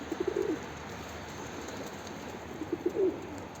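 Two short bursts of soft, throaty pigeon cooing, one at the start and another near the end, over a quiet hiss of background.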